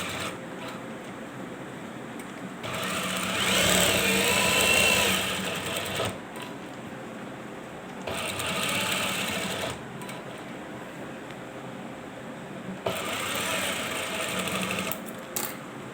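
A sewing machine stitches a closed cuff for a men's kameez shirt, running in steady loud bursts of several seconds with brief quieter pauses between them, close by and without speech.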